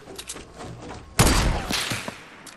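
A sudden loud blast from a sniper rifle in Fortnite cuts through quieter game sounds, then fades into a lingering rumble with a few smaller thuds after.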